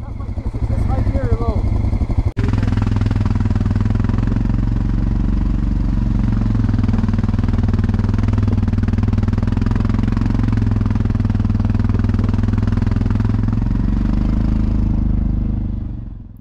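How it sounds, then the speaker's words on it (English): A Suzuki King Quad 750 ATV with a stainless steel exhaust rumbles in a steady, close, loud idle that drones on without a break, with a brief voice near the start. "I think the exhaust system on the Suzuki King Quads is one of the coolest things."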